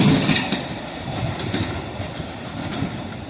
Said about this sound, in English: There goes Amtrak 43, the westbound Pennsylvanian